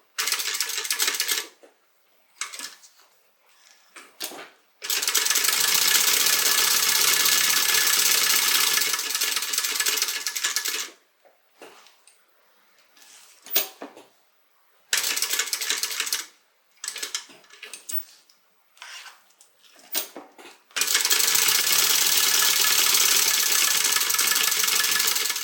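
Sewing machine stitching a crossbody bag flap at a 1/8 inch seam, running in bursts of steady whirring that start and stop repeatedly, with longer continuous runs near the start and end, close and alone.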